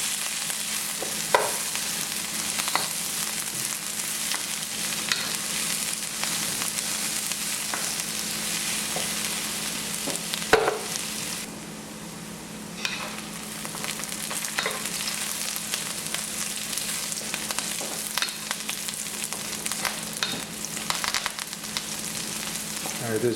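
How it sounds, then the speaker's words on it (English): Onions and green chilies sautéing in a pan for a Sri Lankan caramelized eggplant curry, a steady broadband sizzle with occasional stirring clicks and scrapes, close and continuous with no talking. "just saute that until the onions are translucent"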